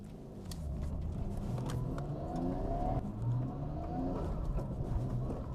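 Nissan GT-R R34 on a test drive after two years of storage in Japan, its engine droning steadily from inside the cabin with a low continuous rumble and slight rises in revs, no talk over it.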